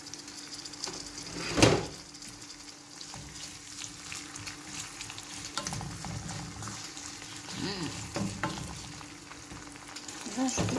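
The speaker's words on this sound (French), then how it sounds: "Et je vais ajouter mon bouillon." Broth goes into a pan of sizzling garlic, onion and bell pepper, with a brief louder splash and burst, then a continuous moderate frying hiss with faint stirring scrapes.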